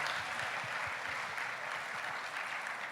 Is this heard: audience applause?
yes